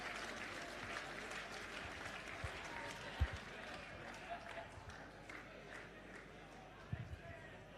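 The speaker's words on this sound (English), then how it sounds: "Ladies and gentlemen, a round of applause for Kyle Bray, the 2018 Grantland medalist." Crowd applause at an Australian football league medal presentation night, faint and distant clapping spread through a hall, with audience murmur and a few thumps under it.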